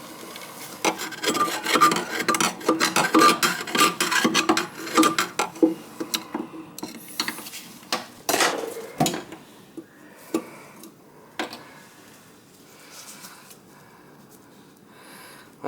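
Metal chunks rattle and grind inside a jammed KitchenAid garbage disposal, giving a loud, rough scraping clatter with sharp knocks that thins out to sparse, quieter scrapes toward the end.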